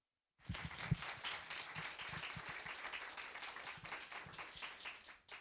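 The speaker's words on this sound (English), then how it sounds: "Give me a round of applause, please." Audience applause at a live literary conversation event, a steady wash of many hands clapping that starts abruptly and continues evenly, with a few louder nearby claps early on.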